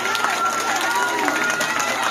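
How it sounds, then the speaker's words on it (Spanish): Audience at an arts performance by a youth group in Palmaseca claps and cheers in a continuous crowd wash, with scattered whistles and a voice talking over it. "Fuerte que se escuche ese aplauso, hombre."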